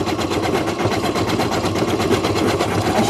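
A sewing machine stitches colored thread in a steady, fast, continuous mechanical whir with a rapid rhythmic pulse, close and loud throughout.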